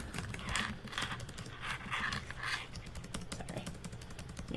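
Soft, irregular clicking of keys on a computer keyboard, quiet and close, with uneven bursts of keystrokes.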